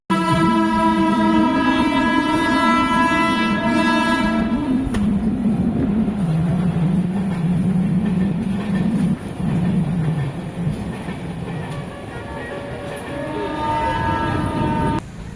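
The Yelagiri Express, an LHB-coach train, pulls into Jolarpettai station with a long horn blast near the start and again near the end, under a steady loud rumble of wheels and coaches.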